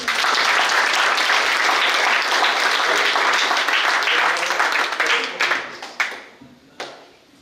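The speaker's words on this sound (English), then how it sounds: "can you clap for yourself?" Audience at a Christ-centered living conference session claps for themselves, a dense sustained applause that fills most of the stretch and then thins into a few scattered final claps.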